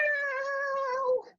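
A person imitates a cat's big, sudden, loud meow with a single drawn-out, tonal vocal wail lasting over a second that bends downward and cuts off sharply at the end, heard alone.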